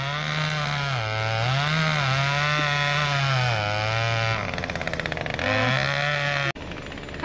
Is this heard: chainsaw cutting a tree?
yes